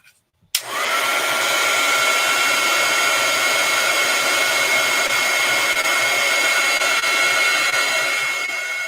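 A heat tool clicks on and blows steadily, a loud continuous close whoosh as it heat-sets stamped ink, running without pause to the end.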